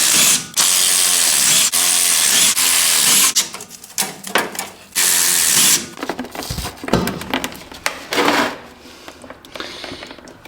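Ratchet wrench loosening the bolts on the rear differential cover of a Duramax truck: loud, close, repeated bursts of rapid clicking, broken by short pauses and a few clanks, with no talking.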